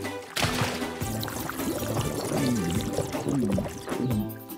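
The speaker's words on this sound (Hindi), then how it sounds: "मॉर्फल, मिस्टर वैंडबूज के बगीचे से सारा पानी हटा दो।" Pouring, gushing water being cleared from a flooded garden in an animated children's cartoon, a steady liquid rush with sliding musical tones running throughout, fairly loud and continuous.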